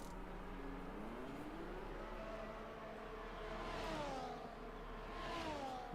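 Race cars shooting past in a racing video game at the Chinese round, engines whining and rising in pitch as they sweep by, a continuous fairly faint buzz with two swells of passing cars.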